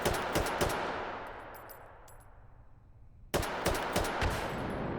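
An RPK fired semi-auto from its bipod in the VR shooter Hot Dogs, Horseshoes and Hand Grenades: a few sharp single shots, a long fading echo and quiet gap, then another quick burst of loud separate cracks.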